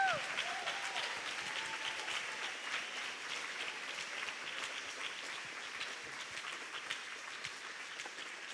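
A church congregation applauds fathers during a worship service, a steady wash of many hands clapping that sounds somewhat distant and roomy and fills the whole stretch without pause.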